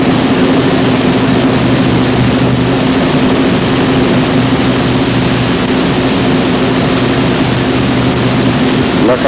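Training aircraft engine from a 1940 Commonwealth Air Training Plan flight, a loud steady propeller drone with a low hum held throughout as the throttle is closed to enter a spin.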